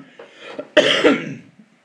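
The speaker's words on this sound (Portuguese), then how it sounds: "Peço desculpa pela tosse" A couple of harsh, close coughs burst out loudly after some softer throat sounds, with no talking around them.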